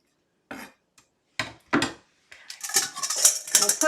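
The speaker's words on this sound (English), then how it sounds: "We'll put our onions right here in a bowl and set them aside" Chopped onion pieces dropped and scraped into a bowl, with a few soft clatters spaced apart and then a denser run of scraping and knocks against the dish, close and fairly quiet.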